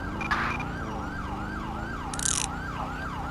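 An ambulance siren from the GTA 5 video game wails in a steady, repeating rising-and-falling pattern over a low engine rumble, with a couple of short electronic radio blips.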